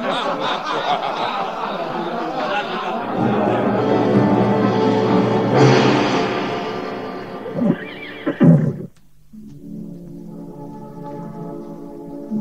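A horse neighs and whinnies loudly amid a dramatized battle scene, the long whinny rising and falling before a few snorting bursts, then quieter background sound after a sudden cut.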